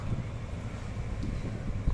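Strong wind from Cyclone Fengal roars steadily outdoors near the coast during heavy rain, a dense continuous rush buffeting the microphone, with a faint voice underneath.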